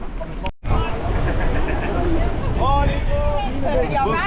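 Strong wind buffets the microphone at the start area of a fell race, a steady roar of gusts with a brief dropout early on and faint voices murmuring underneath.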